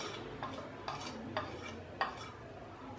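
A spoon stirs panakam, a jaggery drink, after cardamom and pepper powders are added, giving faint, evenly spaced clinks against the vessel, quiet and close with low background noise.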